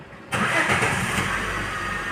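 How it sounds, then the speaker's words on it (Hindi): After a moment of quiet, a car engine cranks and catches following a misfire repair, then settles into a steady, close idle that hums on evenly. "चलिए अब गाड़ी स्टार्ट करता हूँ मैं।"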